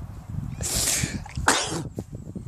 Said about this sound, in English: I haven't sneezed like that in ages